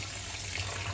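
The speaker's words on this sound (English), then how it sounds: "So now you're just gonna just rinse that off." Tap water runs steadily into a sink as meat for bulgogi is rinsed, a continuous soft splashing stream heard briefly and up close.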